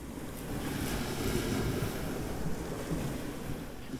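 Sea waves wash onto a beach near Hua Hin, Thailand, a steady broad surf roar with wind buffeting the microphone, continuous and fairly loud throughout with no voices.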